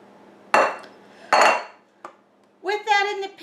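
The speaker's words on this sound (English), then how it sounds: "we're just going to scrape it into that pan. Get it all in the pan." A spatula scrapes chocolate cake batter from a bowl into a pan, giving two strong scraping clatters and a small knock, followed by a short voiced sound, all close up in a quiet kitchen.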